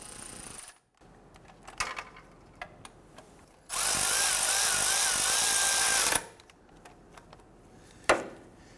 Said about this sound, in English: let's go ahead and tighten down the two lower bolts